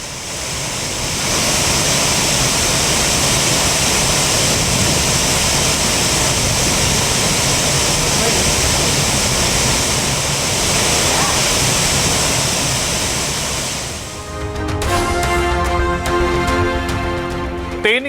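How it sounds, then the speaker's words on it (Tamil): The flooded Courtallam waterfalls, swollen after heavy continuous rain, give a loud, steady, close roar of rushing water for about fourteen seconds before music takes over. "தொடர் கனமழை காரணமாக குற்றால அருவிகளில் குறையாத வெள்ளப்பெருக்கு"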